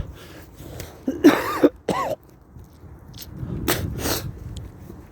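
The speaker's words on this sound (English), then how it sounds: "still coughing, still spitting, still healing." Several harsh coughs and throat-clearing bursts up close, a cluster of sharp hacks followed by quieter rough breathing.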